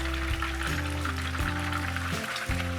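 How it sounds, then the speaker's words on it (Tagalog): Tilapia fillets frying in hot oil in a pan, a dense, steady sizzle with continuous crackle running loud and close throughout, with a low hum underneath. "Magpainit lang tayo ng tamang dami ng mantika dito sa kawali at iprito natin ang isda both sides"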